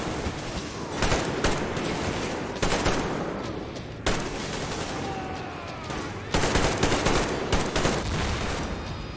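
Sustained gunfire in the video game Metro Exodus, with bursts of automatic fire and repeated shots coming from several directions, loud and dense across the whole stretch, with a faint voice underneath.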